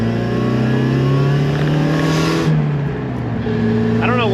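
A green Mazda Miata with valved exhaust closed accelerates, its engine note climbing steadily and loud up close, then easing off before a brief higher whine; a voice is faintly audible under the engine.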